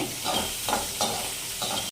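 Bottle gourd pieces frying in a pan, a continuous close sizzle broken by several regular stirring scrapes, no talking.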